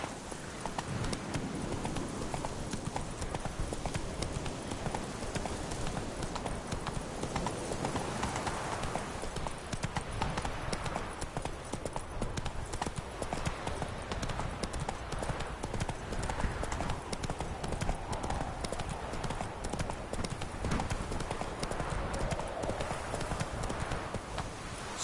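The horse Roach trots steadily through The Witcher 3 game world, its hooves clip-clopping in a continuous even rhythm under a dense, noisy game ambience, with no pauses across the whole stretch.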